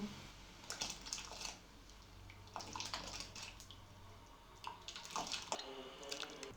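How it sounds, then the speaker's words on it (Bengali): Soaked rice tipped into boiling salted water with bay leaves, cloves, cinnamon and cardamom for Kolkata-style egg and potato dum biryani: faint, scattered wet splashes and slushy pours come in a few short bursts, close but quiet. "ভিজিয়ে রাখা চাল দিয়ে দেব"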